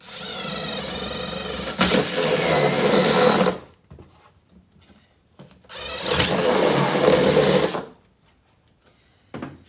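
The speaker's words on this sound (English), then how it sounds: "Got to cut a hole for our router to operate." Router cutting a hole in a kitchen cabinet for a vintage travel trailer, two loud sustained whining bursts of a couple of seconds each, separated by quiet, close up.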